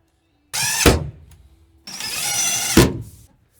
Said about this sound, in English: Let's get this compressor screwed down real quick like